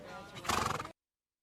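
A horse at a hunt race meeting lets out a loud, shaky whinny lasting under a second, then everything cuts to silence.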